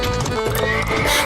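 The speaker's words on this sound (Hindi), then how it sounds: "घोड़ा भागने लगा तो गेंदा डर गया।" Horse pulling a cart of fruit baskets and food pots neighs loudly and close, over steady clip-clop hooves, in a short dense burst with no talk.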